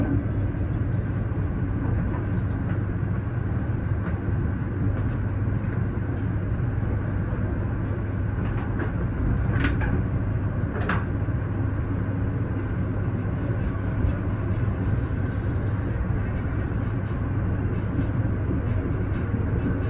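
The Jaka Tingkir economy-class passenger train arriving at Kutowinangun station, heard from inside as a steady loud rumble and rail roar with occasional faint clanks throughout.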